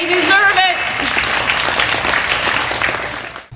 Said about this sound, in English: Would you just stand up and applaud them for everything they've done for you in the last 12 years?